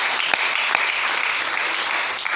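Congregation applauding during a church service, dense steady clapping from many hands with a few sharper nearby claps standing out, sustained throughout.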